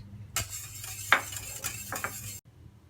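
A spoon stirs a cake mixture in a pot of hot milk with margarine, making soft scraping and a few sharp clinks against the pot in a short, uneven burst before stopping.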